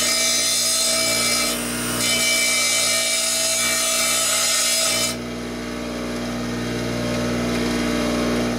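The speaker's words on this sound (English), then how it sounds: "This is a little bit too thick, so I gotta grind this down so it fits inside the SO239." A grinder steadily wears down a length of coat hanger wire so it fits inside an SO239 connector. The high, continuous abrasive whir is loud and close, with its tone shifting partway through.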